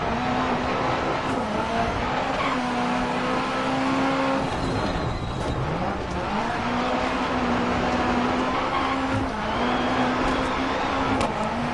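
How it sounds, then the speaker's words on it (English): Rallycross car in the racing game DiRT Rally, its raw, rough engine loud and close, revving up and down through gear changes with brief lifts and renewed acceleration across the lap. "I think I'm just starting to like this car more and more on every lap because of the engine sound."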